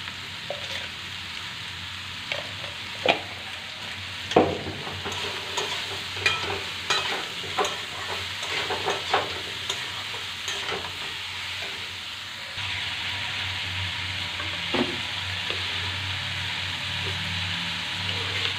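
Bottle gourd fries in a pan with a constant sizzle while a utensil stirs it in repeated scraping strokes. The sound is close and steady, and no one talks.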